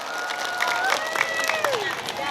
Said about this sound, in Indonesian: Berikan tepuk tangan yang semangat untuk para panitia di Cukangali.